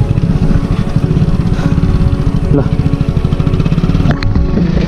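A motorcycle engine labours loudly up a steep uphill road, its strained, pulsing drone held steady and close throughout, with a brief voice heard over it.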